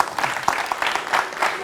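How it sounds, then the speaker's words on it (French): Studio audience on a midday TV show in Cotonou, Benin, breaks into a short burst of applause, close and fairly loud, with individual claps audible in a quick, uneven rhythm. "Je pense que ça s'applaudit, s'il vous plaît."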